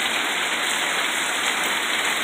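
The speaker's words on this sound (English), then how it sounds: "Little pieces of sleet or hail was just falling again." Sleet or hail falling during a storm makes a steady, dense hiss of pelting ice pellets, loud and unbroken, with no voices over it.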